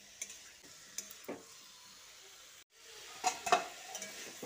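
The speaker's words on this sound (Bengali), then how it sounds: "তারপর সবজির সঙ্গে আবারও একটু ভালো করে মিশিয়ে নিচ্ছি।" Vegetables with cauliflower stalks being stirred and mixed in a frying pan: soft scraping strokes of a spatula at irregular moments over a faint, steady sizzle, close and fairly quiet, with no talking.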